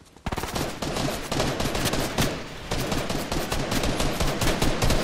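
Rapid hand cannon gunfire in the video game Fortnite, a dense, loud stream of shots cracking one after another for several seconds with only brief gaps.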